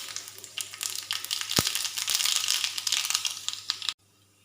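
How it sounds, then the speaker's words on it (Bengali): Mustard seeds hit hot oil with dried red chillies while tempering dal: a dense, crackling sizzle of quick pops and spatters that holds steady, then cuts off abruptly. "এবার দিয়ে দিচ্ছি সর্ষে।"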